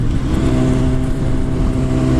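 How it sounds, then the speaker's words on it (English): A loud, close motorcycle engine drones and revs steadily with a deep rumbling tone throughout, revs raised for a downshift, no voices. "The idea here is to bring the revs up to compensate for the lower gear"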